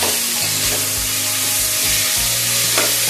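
Sliced tomatoes sizzle loudly in a hot pan for menthya bath while being stirred, a steady frying hiss with scraping strokes of the spatula, close and continuous.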